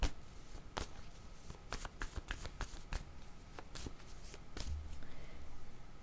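Tarot cards being shuffled and drawn, a run of crisp riffling snaps and soft flicks in uneven bursts, close and fairly quiet with no talk.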